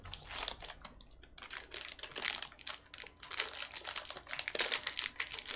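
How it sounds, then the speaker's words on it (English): A snack wrapper crinkles and rustles close up in a series of irregular bursts, crackling on and off at a moderate level with short gaps between handlings. "Sorry for the crinkling there."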